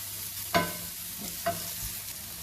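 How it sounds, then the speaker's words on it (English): Onions sautéing in a pan for an Indian poha breakfast, giving a steady close sizzle with two brief spoon-stirring scrapes and no talking. "So let's saute the onions till they become brown, a light brown."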